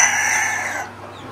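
A rooster on a farm kept with ornamental hens, including Brahmas, gives a loud, close crow that holds steady and then cuts off abruptly, leaving quiet background.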